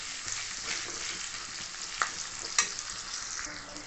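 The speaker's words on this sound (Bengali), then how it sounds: "পেঁয়াজটাকে ভালো করে নেড়ে চেড়ে ভেজে নেব" Onions sizzle and crackle in hot oil with salt while being stirred, a continuous close frying hiss broken by a few sharper spatula scrapes and pops.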